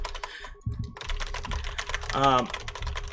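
Two enter keys on a computer keyboard are hammered as fast as possible, producing dense, rapid clacking up close, with brief voice-like sounds mixed in.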